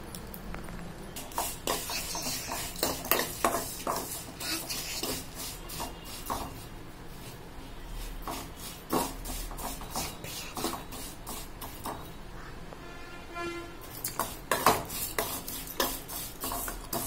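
Semiya vermicelli frying in a pan with a spoon stirring and scraping through it, a steady close sizzle broken by frequent clattering strokes against the pan, no voices.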